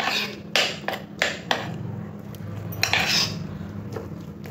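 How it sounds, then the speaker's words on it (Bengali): Masoor lentil paste is mixed with turmeric, chili powder and chopped onion in a bowl, giving a run of close, wet clinking and scraping strokes of a utensil against the dish, then a brief softer stretch. "এবার সমস্ত কিছু ভালো করে ডালের সাথে মাখিয়ে নেব।"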